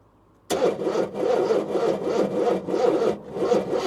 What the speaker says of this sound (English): it ain't gonna start, I don't think, unless it cranks over faster